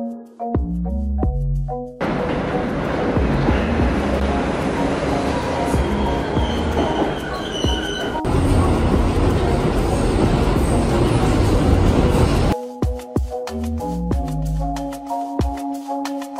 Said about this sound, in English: Now we gotta go another 40 minutes on the subway.